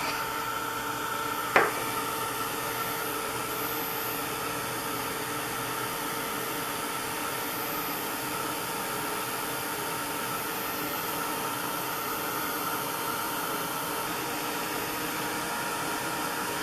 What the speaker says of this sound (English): just dry it with a heat tool